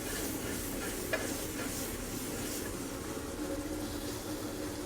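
Soft shell crabs fry in foaming brown butter in a pan, giving a steady, close sizzling hiss that holds at an even level throughout with one small pop.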